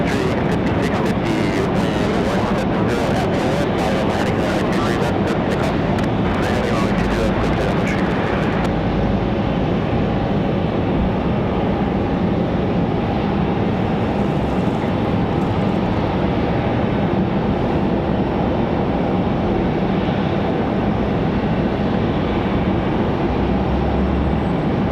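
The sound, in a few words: NetJets Cessna Citation Latitude jet arriving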